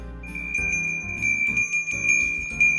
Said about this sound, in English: So here's your bell, your Christmas bell.